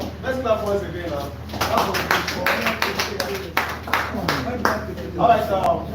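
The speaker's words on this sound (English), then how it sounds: "Let's clap once again now." Scattered audience clapping at a marketing and sales seminar, uneven claps rising and falling over several seconds with someone speaking over them.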